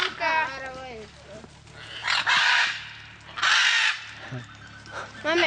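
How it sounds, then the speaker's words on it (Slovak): Ducks and other waterfowl at a zoo call in loud, harsh bursts with clucking and crowing-like squawks, several close outbursts separated by short pauses, while voices chatter in between. "Toto sú iba také kačky a vodné vtáctvo."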